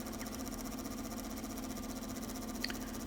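A wood lathe spins steadily at about 1500 RPM while an old pepper mill is buffed, giving a faint, even motor hum with a soft rubbing whir and one small tick near the end.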